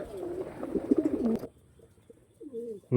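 Breeding pairs of fancy pigeons coo in soft rolling bursts close by, a busy run of calls, then near silence, then another coo starting.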